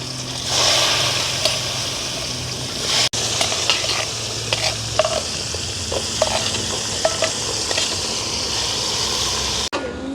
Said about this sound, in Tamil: அப்படியே மிச்ச உள்ளியே பொறிச்சு எடுப்போம்